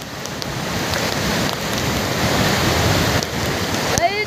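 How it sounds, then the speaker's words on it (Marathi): Rain pours steadily at Tamini Ghat, a dense, even wash of falling water close by, with a brief rising whistle-like sound near the end. "पाऊस पडत एकदम काही दरी बिरी एकदम असलं भारी वाटतंय ना"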